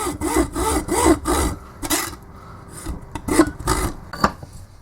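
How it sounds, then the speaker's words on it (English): Hacksaw cutting through the plastic legs of a VW alternator, a series of loud, rhythmic rasping back-and-forth strokes close by, with short pauses between bursts. "you just want to get yourself a hacksaw and you just want to cut them off"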